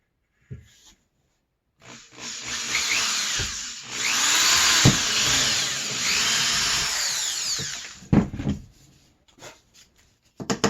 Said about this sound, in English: I'm going to use my my cutter to put a slot in there so that I can use a screwdriver to put it in